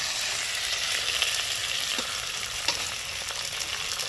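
Ground onion paste frying in a pan, with a constant close hissing sizzle and a few faint stirring taps throughout.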